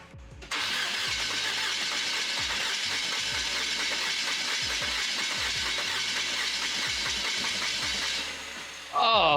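A TDI diesel engine swapped into a Willys Wagon cranks for a long, continuous stretch with a hissing, rhythmic starter drone, close and loud, then briefly stops before a louder burst at the end.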